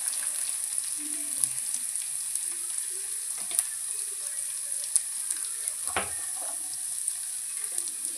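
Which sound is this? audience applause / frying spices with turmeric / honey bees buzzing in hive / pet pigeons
frying spices with turmeric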